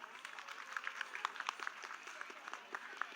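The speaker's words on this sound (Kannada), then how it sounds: "ಆ ಊಹೆಗೋಸ್ಕರ ಒಂದು ಜೋರಾದ ಚಪ್ಪಾಳೆ." Scattered clapping from an audience at a Ganeshotsava student music performance, fairly faint, with irregular individual claps rising and falling rather than a dense roar.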